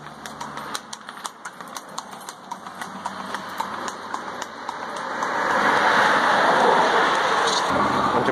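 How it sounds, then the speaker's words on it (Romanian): Rain starts falling outdoors at a music festival, first as scattered taps and clicks, then building into a steady, loud hiss of rain on surfaces. "A început să plouă."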